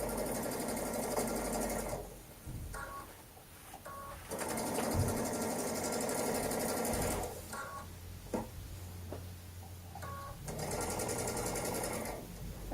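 A sewing machine runs steadily while stitching quilt fabric, humming in three long close runs separated by short pauses with small clicks and handling noises.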